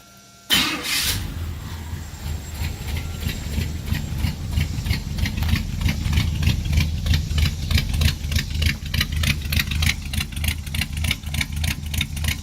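A 1983 Chevrolet C10 Scottsdale pickup engine cranks briefly and catches, then settles into a loud, close, low lumpy idle with a steady rhythmic throb, no voices.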